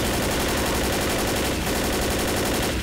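Dense automatic gunfire from the zombie shooter Left 4 Dead, rapid bursts rattling continuously and loudly for the whole stretch, with no talk over it.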